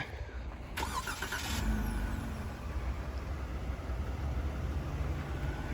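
A 2021 Jeep Wrangler Sahara Unlimited starts by remote start on a frigid day: a short cranking burst, then the engine settles into a steady low idle heard from outside.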